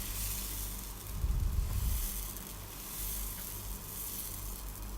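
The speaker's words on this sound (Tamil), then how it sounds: "இப்போது கல்லை சூடு பண்ணி நம்ம தோசை ஊற்றிடலாம்." Moong dal (green gram) dosa batter spreads on a hot griddle with a steady, soft, broadband sizzle and a slightly louder low rush near the start; no one speaks.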